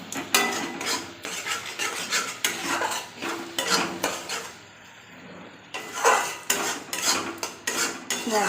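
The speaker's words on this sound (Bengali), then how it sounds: "মশলার কাঁচা গন্ধ না যাওয়া পর্যন্ত মশলাটা আমি কষে নেব।" Spices stir-fried in a pan with turmeric and chili powder, repeated rhythmic scraping and clattering of a spatula against metal, pausing briefly midway before resuming close and fairly loud.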